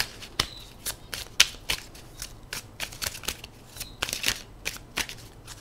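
Oracle cards are shuffled by hand, a fast run of crisp riffling snaps and flicks that come in quick irregular bursts, close and fairly quiet, with no talking.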